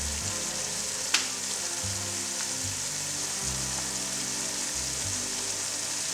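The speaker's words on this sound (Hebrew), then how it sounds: "מטגנים בצל ושום ביחד" Onion and garlic fry together in a pan for plov, a steady moderate sizzle with a single sharp tap of a utensil early on.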